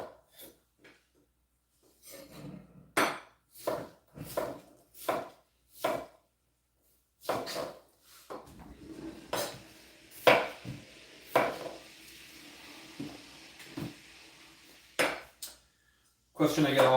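A kitchen knife slices potatoes into planks on a cutting board during bulk soup prep: crisp, evenly paced chops in short runs with brief pauses, close and clear.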